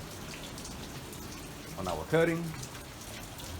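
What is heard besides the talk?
rain falling outdoors on an overcast day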